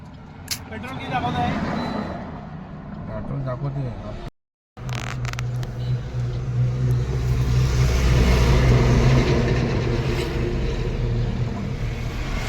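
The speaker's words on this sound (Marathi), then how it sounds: "बघू चालू होते काय गाडी" A broken-down car stranded on the road between Mangaon and Lonere is started, and its engine rumbles and revs steadily close by, cut by one short dropout, while people talk nearby.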